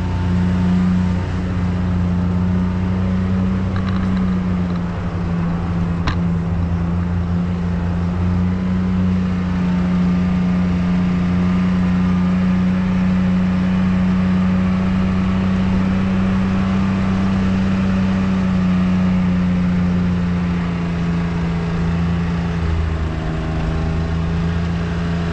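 A utility vehicle drives around a rural property, its engine a loud, steady drone with a slight rise and fall in pitch, continuous and close with no talk.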